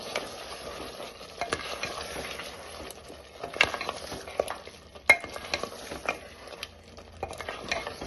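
Mutton korma being stirred and mixed in a pan with coriander leaves, a soft simmering sizzle broken by repeated spoon scrapes and clanks against the pan.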